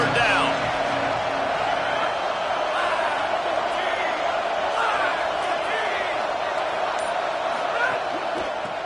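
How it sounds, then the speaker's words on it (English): A stadium crowd at a football game roars steadily as the defense holds on third down, a loud, continuous wash of voices that stays high throughout. "Decibels rising as the crowd gets behind this defense on 3rd down."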